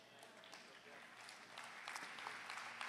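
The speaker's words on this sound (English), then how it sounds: "I'm glad I got so many claps on that." Congregation clapping during a church sermon, faint and distant at first, then swelling into fuller applause in the second half, with a voice speaking over it.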